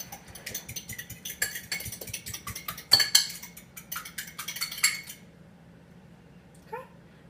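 Beaten eggs with salt and pepper whisked in a bowl, with rapid, loud clinking strokes against the sides for about five seconds before the mixing stops and the room goes quiet.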